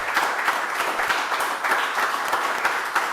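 An audience at an awards evening applauds the awardees, a continuous wash of many clapping hands, moderately loud and even, with no talk over it.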